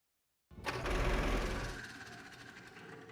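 An old tractor engine in bad shape cranks and sputters roughly, a loud rattling burst that settles into uneven knocking as it struggles to catch.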